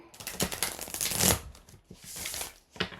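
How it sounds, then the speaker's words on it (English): Tarot deck being shuffled close up, a dense continuous riffle of cards building to a loud flurry, easing briefly, then a final quick snap of cards. "I will shuffle these"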